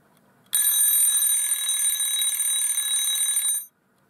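A mechanical alarm clock used in a 360° time-lapse camera panning device rings with a bright, steady metallic bell for about three seconds, loud and close, then stops abruptly. No talking.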